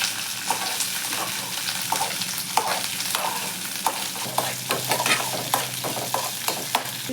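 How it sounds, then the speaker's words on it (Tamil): Onions sautéing in a pan for coriander chutney, with a steady sizzle broken by repeated scraping strokes of a spoon stirring them, close and moderately loud with no talk. "அடுத்து வதக்கணும்."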